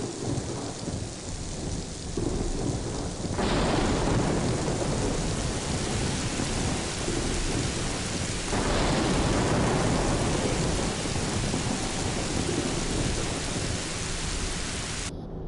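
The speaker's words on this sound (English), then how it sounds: "And it begins to rain." Heavy rain pours steadily in the Shenmue video game, with rolling thunder swelling in two louder surges, a continuous dense wash with no voices.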